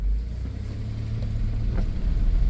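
A 1993 Plymouth Grand Voyager SE, revived after 18 years abandoned, idles with a steady low engine rumble as it is put in gear, heard close and moderately loud from inside the van, with no talking.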